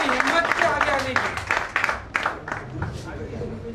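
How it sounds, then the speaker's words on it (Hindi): Applause for a volunteer who came forward at a training camp: a burst of hand clapping from a crowd that fades out over a few seconds, with voices in the room. "एक बार इनके लिए ताली इनके लिए जोरदार तालियां होंगी।"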